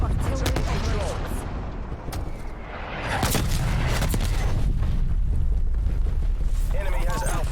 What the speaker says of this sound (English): Port Nova authorizing artillery operations.